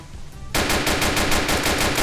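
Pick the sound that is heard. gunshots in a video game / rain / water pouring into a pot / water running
gunshots in a video game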